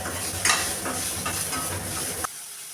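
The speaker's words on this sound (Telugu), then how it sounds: "రెండు వేసుకొని వేగనివ్వాలి ఫ్రై చేసుకోవాలి" Two small tomatoes fry in a pan for a brain curry, giving a steady close sizzle with light stirring and scraping that stops abruptly near the end. No voices.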